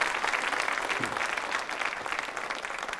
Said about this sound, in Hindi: तालियां तो जोर से बजनी चाहिए